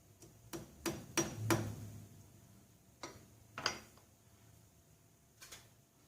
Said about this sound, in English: using that dowel to bump the camshaft over